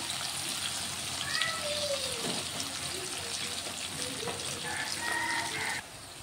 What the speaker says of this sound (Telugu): ఉల్లిగడ్డ వేసుకున్నాం, అలాగే పచ్చిమిర్చి కూడా వేసుకుంటున్నా. అది కలిపి వేసుకుంటాం.